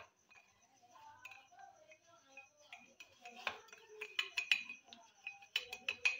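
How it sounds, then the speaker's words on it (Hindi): A spoon clinks and taps against a cup while instant coffee is whipped for whipped coffee, starting sparse and quiet, then turning into quicker, brighter metallic ticks and scrapes. "अब मैं इसको अच्छे से मिक्स करती हूँ।"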